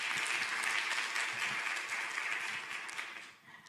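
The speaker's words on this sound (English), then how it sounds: "Let's give her a round of applause." Steady applause from a symposium audience, a dense wash of clapping that holds for several seconds and then begins to fade.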